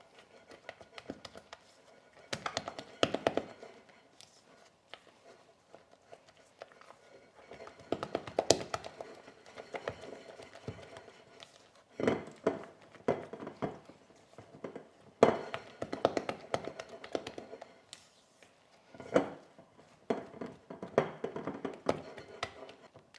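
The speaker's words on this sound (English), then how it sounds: "my buttercream is now nice and mixed and at the colour I would like" Buttercream is worked by hand in a bowl, giving soft irregular tapping and scraping knocks in uneven clusters under a person's ongoing talk.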